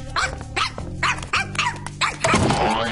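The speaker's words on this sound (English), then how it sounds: "There's no reason to growl." A dog growls low and barks in short repeated bursts, close and loud, with the barks coming roughly every half second before a harsher final outburst.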